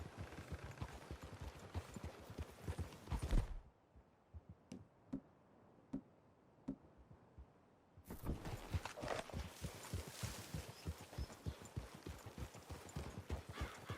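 Horses walk with a steady clip-clop of hooves on a trail in Red Dead Redemption 2, the rhythm continuing for long stretches near and clear, broken midway by a quieter pause with a few sharp ticks.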